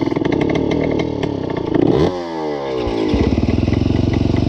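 A Honda motorcycle engine runs loud and close with a rapid, rattling idle, briefly revving and dipping in pitch midway before settling back into its chugging rhythm.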